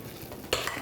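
A spoon stirs sticky energy-ball dough of almonds and oats in one brief, faint scrape that brightens toward the end.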